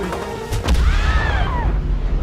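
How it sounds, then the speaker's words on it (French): An explosion goes off in the action video game Split Fiction, sharp thumps followed by a loud booming blast with a whistling, sweeping tail that lingers. "tu sais que c'est un jeu d'action quand t'as une explosion derrière toi"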